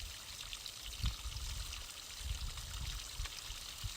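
Water pours steadily from a natural hot spring shower in Iceland, a continuous close splashing stream with soft low thumps, heard alone without voices.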